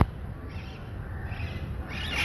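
Parrots squawking outdoors, faint and distant, with harsh calls rising near the end above a steady low background rumble and no talking.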